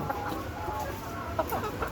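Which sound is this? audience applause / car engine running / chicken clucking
chicken clucking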